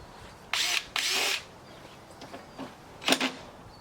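A power drill drives screws into the body of a Hummer H2 while pod lights are fitted underneath, with two strong whirring bursts near each other, then faint handling noises and a third short burst.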